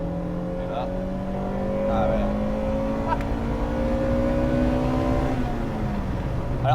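Honda Integra Type R engine revving up through the rev range into VTEC, a rising mechanical whine with a gear change partway through, heard from inside the car with people talking over it.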